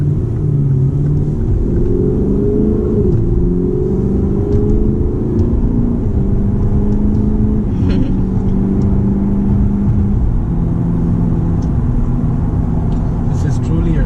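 A Lexus GS F sedan's engine hums while driving on a bumpy road, a steady, loud, low rumble with a smooth tone that rises and settles slightly as the car moves along.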